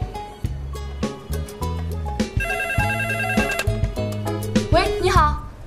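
A phone rings in a chairman's office with a melodic electronic ringtone, a loud series of tonal notes in a repeating pattern that plays alone for several seconds.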